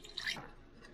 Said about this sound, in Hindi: थोड़ा पानी डालते जाएं और इसको मिक्स करें।